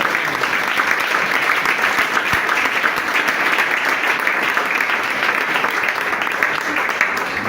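A church congregation applauds loudly and continuously, a dense sustained clapping that fills the whole stretch with a faint hint of voices underneath.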